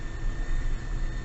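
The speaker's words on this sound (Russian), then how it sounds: "Турбина бывает, вот раздувает, побольше даешь." A GAZon Next truck engine in city driving, its turbocharger giving a thin steady whistle over a continuous low engine drone, close and unbroken.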